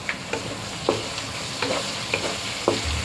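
Tomatoes sizzling in a frying pan while being stirred, with a steady low hiss and a series of distinct scraping strokes spaced roughly every half second, close and moderately loud, no voices.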